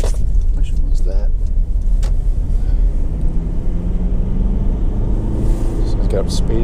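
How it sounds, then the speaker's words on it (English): Honda CR-V 2.2 i-DTEC EX automatic 4WD driving along a main road, a steady loud engine and road rumble running throughout, with a person talking over it. "I'm just going to go down the main road and give the brakes a bit of a thump"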